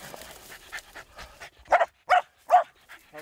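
A hunting dog on an African safari after a waterbuck kill pants and breathes in short, loud bursts up close, with faint voices nearby.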